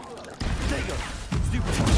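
A fire spell is cast in Hogwarts Legacy: two bursts of loud, rushing game effects, each with a sudden onset. No voice is heard over them.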